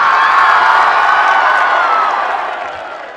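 A large crowd at a PTI rally in Haripur roaring and cheering with applause mixed in, loud and sustained at first, then slowly fading over a few seconds.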